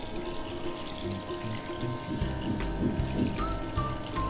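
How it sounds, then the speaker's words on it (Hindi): A toy doll bathtub's little tap sends a thin stream of water splashing and trickling for several seconds, close and moderately loud, with faint knocks mixed in. "वाह सच्ची में पानी गिर रहा है"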